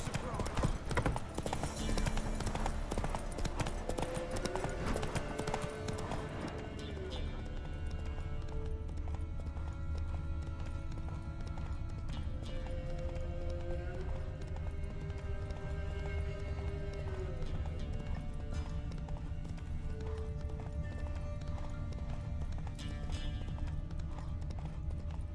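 Horse hooves galloping in The Witcher 3, a rapid clip-clop that keeps going under game music and voices, with dense constant sound throughout.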